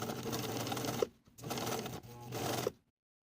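A sewing machine stitches a dart in a bodice piece for a bow tie top, running in a steady close mechanical whir with two short pauses and a final stop.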